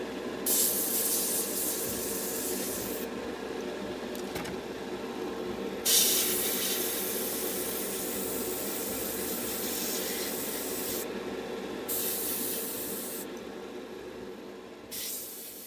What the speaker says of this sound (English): I'm just applying a darker, a deeper amount of paint than the other coats.